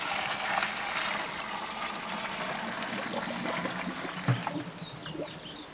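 Hot water pours and trickles steadily while brewing ale, a continuous splashing flow with a brief louder gurgle near the end.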